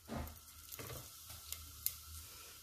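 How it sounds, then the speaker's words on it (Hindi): Cumin seeds crackle and sizzle in hot mustard oil in a pressure cooker, a dense close frying hiss with a few sharp pops, no voices. "और हम मिक्स सब्जी बना रहे हैं तो अब हम डाल रहे हैं आधा चम्मच जीरा"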